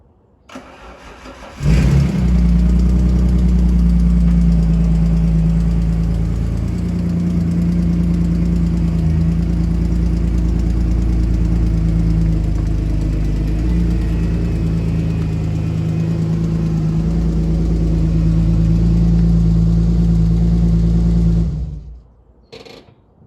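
An Alfa Romeo 156 with a 2.5 V6 24-valve engine cranks and catches, then settles into a steady, loud, close idle that runs on alone for about twenty seconds before cutting off.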